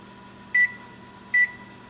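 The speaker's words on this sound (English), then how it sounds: "Timer set for 1 hour and 5 minutes." Two short, bright electronic beeps from an oven timer being set while banana bread bakes at 375 degrees, evenly spaced about a second apart, close and clear over a quiet room hum.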